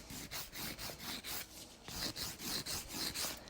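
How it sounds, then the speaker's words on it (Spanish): A nail file rasping back and forth over permanent nail polish, about a dozen even close-up strokes with brief pauses between them, quiet and with no talking. "No hay que limar la zona de uña natural, esa parte no la limaremos"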